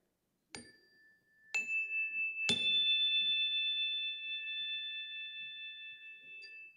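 A chime marking station rotation rings with three bright struck tones in succession, the last one sustaining a clear ringing note for several seconds in a quiet room.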